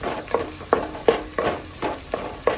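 Pickle ingredients sauté in plenty of oil, sizzling steadily while a spoon scrapes and stirs in a regular rhythm, roughly seven distinct strokes, close and clear with no talking.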